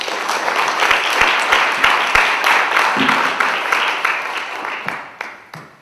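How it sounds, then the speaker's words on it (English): Audience applause at a 1 Million Cups startup pitch event, a steady crowd clapping with a few sharp nearby claps early on, holding level and then tapering off toward the end. "Let's give them a round of applause"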